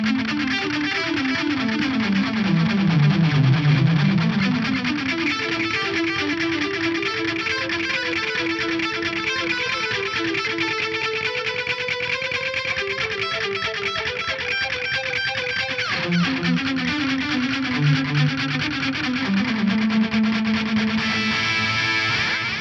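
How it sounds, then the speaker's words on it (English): Guitar played through a Korg SDD 3000 style delay on a Fractal FM3 Mark II Turbo, a distorted melodic line with rhythmic echoes repeating each phrase, sustained and loud with no talking. "grab this SDD 3000, like a Korg SDD 3000 style delay in there"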